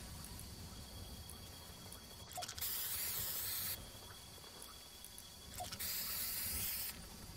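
Two bursts of aerosol spray paint hissing in a battle royale video game, each lasting about a second, steady and fairly loud over a low game ambience.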